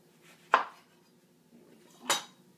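A knife slicing through a lemon on a board while preparing a lamb chop marinade: two crisp, close cuts about a second and a half apart, with a quiet pause between and no voices.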